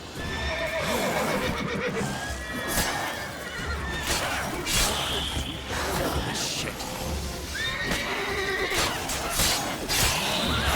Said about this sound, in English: Stay away from the horse.